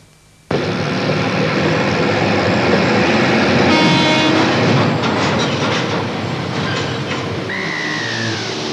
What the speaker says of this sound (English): Take two steam trains up the North Island main trunk line